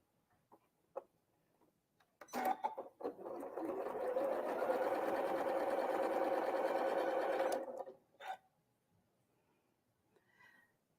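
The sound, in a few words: sewing machine stitching fabric triangles together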